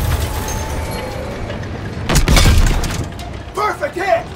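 A tank cannon shell slams into an enemy Panzer tank in a WW2 game set around Aachen, Germany, one heavy booming impact rising over low engine rumble, with a shouted voice following shortly after.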